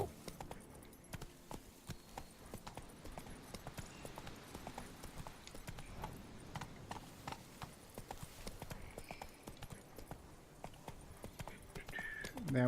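Roach the horse from The Witcher 3 trots along with quiet, regular hoofbeats that continue throughout, soft and fairly distant.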